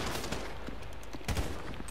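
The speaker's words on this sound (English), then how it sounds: "So I guess we're shooting our way out of here." Dense video game gunfire from a GTA 5 shootout, rapid overlapping shots forming a continuous fusillade with a couple of heavier bursts near the end, loud and close with no talk.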